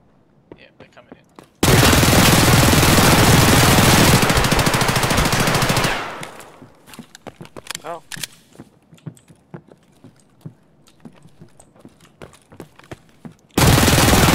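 Sustained automatic gunfire in the Escape From Tarkov video game, a loud dense burst lasting several seconds that tapers off into scattered clicks and handling noises, then another loud burst starts abruptly at the end.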